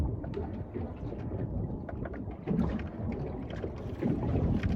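Strong wind buffets a small fishing boat out on a bay, a dense, steady low roar that rises in louder gusts, with no talking.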